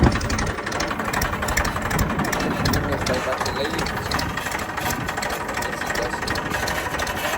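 A tractor engine rumbles steadily and loudly throughout, with someone briefly speaking over the constant mechanical drone.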